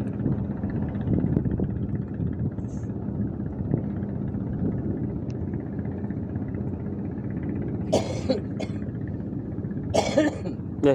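A couple of sharp coughs near the end, close by, over a steady boat engine drone that runs throughout, on a fishing trip off Balikpapan.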